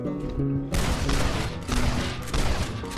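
Gunfire in Red Dead Redemption's slow-motion Dead Eye shooting mode, a dense burst of loud, booming shots and blasts layered over a heavy game soundscape, with no speech.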